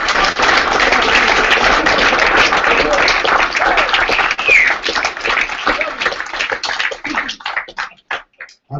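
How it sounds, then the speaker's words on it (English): Sustained loud applause from a crowd at an awards dinner, thinning out toward the end into scattered claps, with voices mixed in. "nobody here is clapping as loud as WC"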